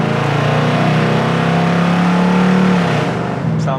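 A 1970 Ford Mustang Fastback engine revs loud and close, a steady throaty roar that climbs in pitch and holds, then drops away near the end with no talk over it.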